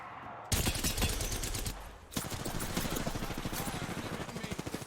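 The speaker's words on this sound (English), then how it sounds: "I am taking fire, friends." Rapid automatic gunfire in the Apex Legends battle royale game, loud bursts of close shots firing in quick succession, with a brief pause before another sustained volley.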